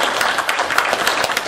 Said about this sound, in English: I want to give them a round of applause for being here.